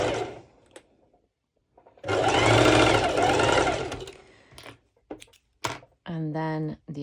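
Sewing machine bust-stitching two layers of fabric for color-block binding on pole dance wear, heard as a long steady run of rapid stitching with shorter bursts after, separated by quiet pauses and brief handling sounds.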